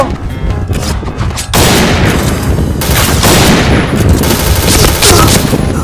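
Sustained machine-gun fire in a video game, loud dense bursts that start after a quieter opening and carry on almost without pause to the end.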